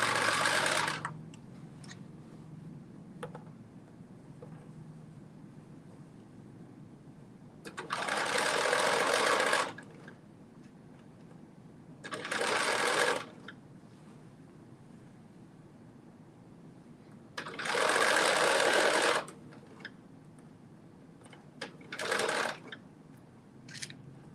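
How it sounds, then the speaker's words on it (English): A sewing machine stitches a sleeve into a bodice in four distinct bursts of rapid mechanical whirring, separated by quiet pauses, with a couple of brief shorter runs. "And just stitching in that sleeve."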